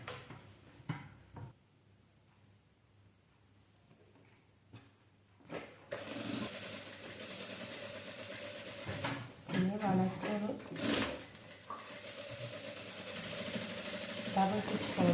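A sewing machine stitching a saree blouse, quiet at first with a few light clicks and handling sounds, then running in a steady whirring stretch with brief pauses and bursts of faster stitching, a voice talking at times.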